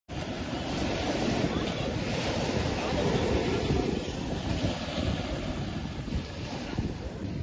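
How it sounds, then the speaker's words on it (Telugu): Steady, broad surf washing onto a beach at night, continuous and fairly close, mixed with some wind rumble and no clear voices. "నైట్ అయినా కూడా భలే ఉంది నైట్లో కూడా బీచ్"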